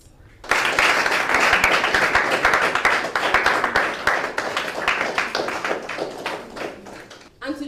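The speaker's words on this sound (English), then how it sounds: "You have to keep clapping till they all step out." Guests clap at a cake-cutting celebration with sustained, brisk hand claps and sharp taps. The clapping keeps an uneven rhythm, thins out toward the end and comes back briefly.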